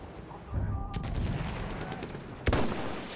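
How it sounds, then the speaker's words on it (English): An enemy machine gun fires during a Battlefield 1 match, rattling bursts at middling distance with a sharp crack near the end, under game ambience and a little talk. "The enemy has the enemy machine gun over there!"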